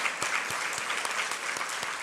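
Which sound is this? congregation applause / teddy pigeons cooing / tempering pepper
congregation applause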